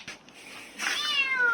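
A kitten gives a couple of short, faint meows, then a longer, clearer rising meow near the end, close and quiet, with no talk over it.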